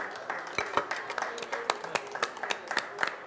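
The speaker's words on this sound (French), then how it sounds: "je vous demande de l'applaudir s'il vous plaît" Applause for a guest pharmacist at a pharmacy event, made of scattered, uneven hand claps from a modest audience, fairly close and moderately loud for a few seconds.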